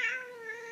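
A cranky, long-furred cat meows once in a drawn-out, rising-then-steady cry as it is lifted up, close and fairly loud with no talking.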